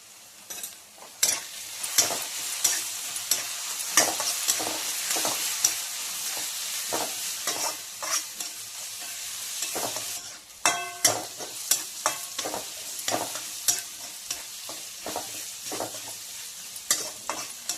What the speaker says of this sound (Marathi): हे बघा आता आपला कांदा परतून झाला।